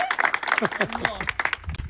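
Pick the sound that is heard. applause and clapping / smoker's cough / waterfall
applause and clapping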